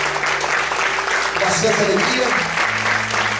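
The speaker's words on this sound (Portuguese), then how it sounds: "Você pode aplaudir o Senhor nessa noite?" An evening church congregation breaks into sustained, dense applause that fills the room, while a voice speaks briefly over the clapping.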